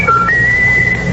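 A pet bird named Raffles whistles a thin, sustained high tone that slides up partway through, sounding clear and close on an old-time radio comedy broadcast.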